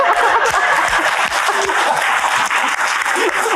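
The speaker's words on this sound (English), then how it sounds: "I'll give a round of applause on that one" Steady applause from an audience fills the whole stretch, dense clapping at constant loudness with a few faint chuckles and murmurs mixed in.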